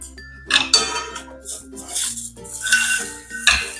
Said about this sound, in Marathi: मखाने रोस्ट करून झालेले आता काढून घेते